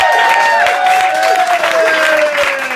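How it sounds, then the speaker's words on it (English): Steady, dense applause from an audience in a music venue, loud and continuous, with a few thin whistles gliding through the clapping. "can we give these gentlemen a round of applause?"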